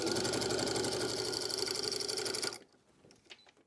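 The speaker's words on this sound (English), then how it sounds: "I'm going to set my stitch length to a 4 and just sew straight down." A sewing machine runs a straight seam at a long stitch length on a DIY bag, giving a close, steady, fast mechanical whirr that stops abruptly after about two and a half seconds, leaving near silence.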